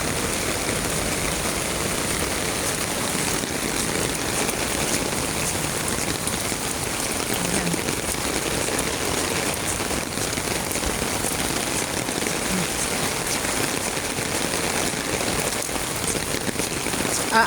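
Heavy rain pouring down outdoors, a loud, dense, steady roar of drops drumming on surfaces and umbrellas that stays constant throughout with no voices.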